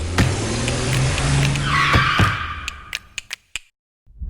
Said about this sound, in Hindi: इस गेम के अंदर ये कार ड्राइव कर सकता है